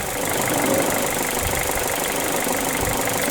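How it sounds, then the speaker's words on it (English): A Mazda2 engine running on hydrogen at very low pressure idles steadily, a rough broadband rumble with faint irregular knocks throughout. "the engine is still running"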